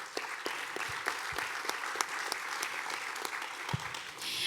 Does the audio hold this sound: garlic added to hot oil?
no